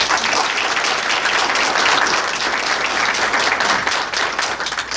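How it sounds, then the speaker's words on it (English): Sustained audience applause at a school board meeting, dense and steady with many hands clapping throughout, loud and close, tapering slightly near the end. "So I'd like to give them a round of applause."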